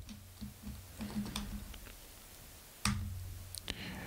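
Typing on a computer keyboard, with sparse, quiet key clicks in short bursts and one sharper keystroke near the end against a faint low hum.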